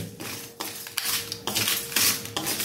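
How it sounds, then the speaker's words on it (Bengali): Whole cumin, coriander seeds and two dried red chillies rattle and scrape in a dry iron wok. Several distinct bursts of clinking stirring come close together, with short quieter gaps between them. "এগুলো আমি শুকনো কড়াতে জাস্ট ভেজে নেব"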